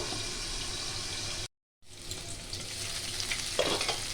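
Chicken sizzling and crackling in a hot pan, a steady frying hiss that drops out briefly, then resumes with occasional spatters and stirring.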